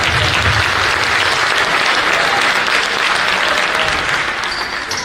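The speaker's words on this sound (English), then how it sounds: "Give them a round of applause." A basketball audience at a 5th–7th grade youth league championship applauds the Lakers team, with dense, even clapping throughout, loud and close.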